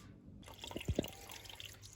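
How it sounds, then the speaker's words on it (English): Water trickles and drips out of a central heating pipe after a fitting is loosened during a three-port valve replacement, with faint close splashes and gurgles against a quiet indoor background. "the water is actually flowing out"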